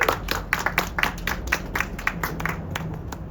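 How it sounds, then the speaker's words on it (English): Scattered clapping from a modest gathering of around forty or fifty people at an evening political event, a loose irregular patter of hands close by, tapering unevenly over a few seconds. "So give yourselves all a round of applause here"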